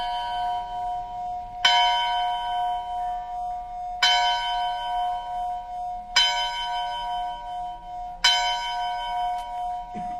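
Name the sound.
church bells ringing at 10 a.m. in Kentucky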